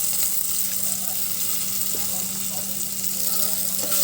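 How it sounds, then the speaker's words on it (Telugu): Onions frying in a pan for a spiced yogurt relish, browning with salt added, giving a steady, close, even sizzle throughout with no talking. "వేసుకొని మనం బాగా బ్రౌన్ వచ్చేంత వరకు ఫ్రై చేసుకున్నాము."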